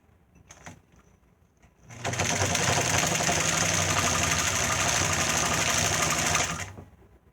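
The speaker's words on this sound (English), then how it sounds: "Let's see how this machine sounds. Full throttle, straight stitch." Singer 206 sewing machine running at full throttle on a straight stitch, a steady loud mechanical whir and rapid needle clatter holding for about five seconds after a brief start, then stopping.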